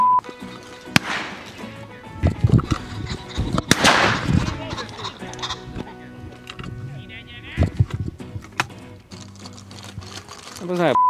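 Sharp shotgun blasts crack out repeatedly outdoors during a pheasant hunt, some close and loud, others farther off, with voices talking in between.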